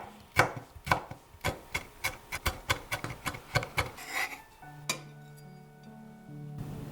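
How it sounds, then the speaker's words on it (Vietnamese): Chili peppers minced with a knife on a board, heard as a quick, steady run of about a dozen sharp chops close up. The chopping stops and a soft, sustained hum lingers afterward. "Băm thêm vài trái ớt cho có vị cay cay và màu sắc nếu thích ha."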